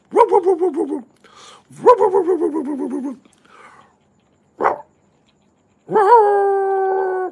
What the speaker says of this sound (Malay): dengar suara salakan anjing Ruff! Ruff! Ruff!